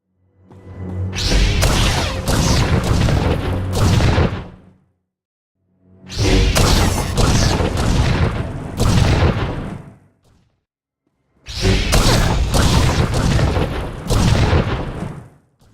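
Large explosions rip through Imperial weapon platforms on Hoth in Star Wars: The Old Republic, three loud booming blasts with rushing debris, each lasting about four seconds and separated by short silences.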